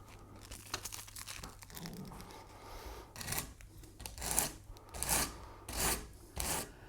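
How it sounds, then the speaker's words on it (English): Coarse 60 grit sandpaper rasps against the body of a custom Les Paul style guitar in bursts of close scratchy strokes, the rubbing growing louder and more rhythmic toward the end. "I'm just going to start out by removing some of the heavy stock with some 60 grit"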